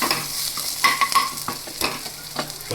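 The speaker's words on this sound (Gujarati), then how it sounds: "પછી એના માટે આપણે આદુ, લસણ અને મરચાંની પેસ્ટ બનાવી હતી, એ પેસ્ટ નાખી દઈએ। જો આ રીતે હલાવી" Ginger, garlic and chili paste stirred in a hot frying pan, steady sizzling with scraping strokes of a spoon and a few light metallic clinks, close and alone.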